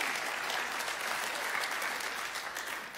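Church congregation clapping during a sermon, a steady wash of applause from many people, moderately distant and even, easing slightly toward the end.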